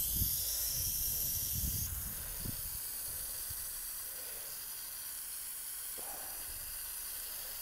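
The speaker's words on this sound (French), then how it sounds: "J'arrose." A garden hose jet sprays water over a freshly sown bed of dwarf pea plants, a steady broadband hiss that runs unbroken the whole time, with a few faint knocks early on.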